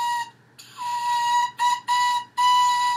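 A beginner's oboe gives thin, reedy tones held at one steady pitch, played in several short bursts separated by breaths and gaps, close and fairly loud.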